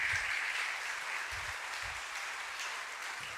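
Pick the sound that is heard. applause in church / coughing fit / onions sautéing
applause in church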